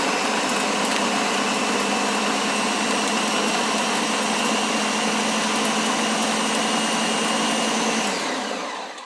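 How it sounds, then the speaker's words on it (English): A blender whirs steadily and loudly while blending tomato sauce ingredients, a continuous motor drone running for about eight seconds before it cuts off. "So just blend it up for a few seconds"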